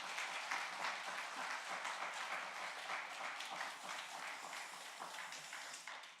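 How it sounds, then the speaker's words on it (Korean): A church congregation applauds a visiting pastor at a dawn prayer meeting, broad steady clapping filling the room throughout and slowly thinning toward the end, with no talk over it. "홍산면에서는 이런 박수 받아본 적 없다 할 만한 큰 박수로 환영합니다"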